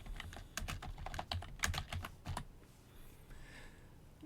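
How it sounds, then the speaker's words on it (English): A short burst of typing on a computer keyboard, about a dozen quick, close key clicks over two and a half seconds, then quiet room tone. "on this computer, I'm going to type in arp-a"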